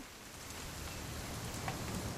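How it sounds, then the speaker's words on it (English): Rain falls in the video game What Remains of Edith Finch, a soft, even patter of drops that stays quiet and steady throughout. "It's gonna rain the whole weekend,"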